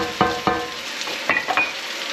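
Onions, peppers and chorizo sizzle in a frying pan with steady hiss, broken by a few clear scrapes and stirs of a utensil against the pan, close and alone.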